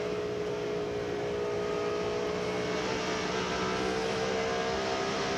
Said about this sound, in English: Now we'll watch as he accelerates down the front stretch.